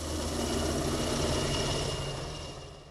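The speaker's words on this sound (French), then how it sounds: "Surgis de nulle part, ces hélicoptères fendent le ciel de la Mure." Military helicopters flying over mountains near La Mure, a loud, steady rotor and engine roar that holds constant for the whole stretch and eases off slightly near the end, with no voices.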